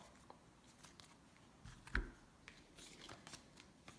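Tarot cards shuffled and drawn from the deck in quiet close-up: soft papery riffles and slides with one sharper snap near the middle, no voices.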